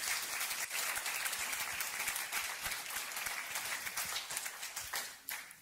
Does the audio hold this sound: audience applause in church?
yes